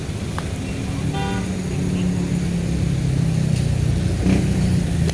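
Heavy, congested street traffic in a busy city: a dense continuous rumble of engines with a short car horn toot early on and vehicles revving and moving close by throughout.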